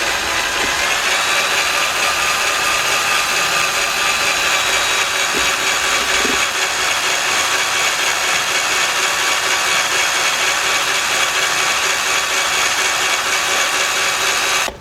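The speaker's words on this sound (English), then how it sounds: "you notice I was drilling slow." Steady, continuous grinding whine of a drill slowly boring into metal on a 1977 Buick LeSabre with a 350 engine, loud and close, running without pause for the whole stretch.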